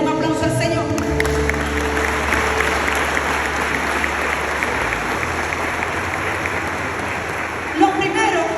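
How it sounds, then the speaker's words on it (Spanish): A church congregation at a world congress claps together, a loud dense wash of applause with a sustained tone over it, probably music, and a low hum that drops out partway through. "Den un aplauso al Señor."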